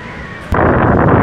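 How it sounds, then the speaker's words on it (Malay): Strong wind gusts buffet the microphone outdoors at a food hub, a low rushing roar that jumps suddenly louder halfway through and stays heavy to the end. "Ui, kuat angin kan?"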